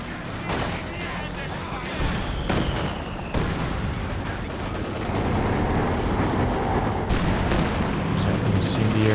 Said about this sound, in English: Oh, but that's a pinpoint accurate Katyusha barrage.